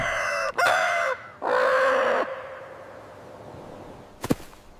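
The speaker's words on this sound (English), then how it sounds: "Cock-a-doodle-doo!" A rooster crows twice in quick succession at a farm at dawn, loud and close, each call rising and then falling away, followed by a brief sharp snap near the end.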